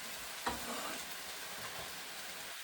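Shredded potatoes and peppers sizzle in a hot pan seasoned with soy sauce, a steady hiss with a soft scrape of stirring near the start, close and quiet.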